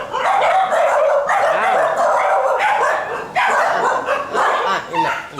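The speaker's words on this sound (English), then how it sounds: "They have lots of dogs." Several dogs at a small tiny house in a coconut garden in Hikkaduwa, Sri Lanka, bark and yip loudly and continuously, close by, with people talking over them.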